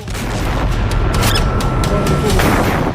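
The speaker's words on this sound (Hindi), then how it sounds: "चंद सेकंड के बाद होता है बड़ा धमाका" A loud, heavy explosion of an Israeli Merkava tank attacked in Jabalia roars through the whole clip, deep rumbling mixed with crackling, debris-like bursts.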